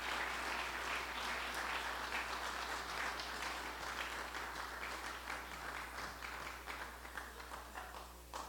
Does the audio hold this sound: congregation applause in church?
yes